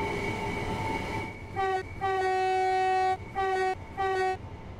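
A Class 375/9 electric multiple unit in Train Sim World 4 hums along steadily with background rumble, then sounds a series of loud, sustained horn blasts in four bursts.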